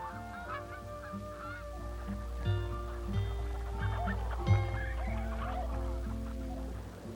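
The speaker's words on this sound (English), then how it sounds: "This is a Canada goose." Canada geese honk repeatedly in a loose, overlapping chorus over a steady low rumble, the calls moderately close and fairly loud.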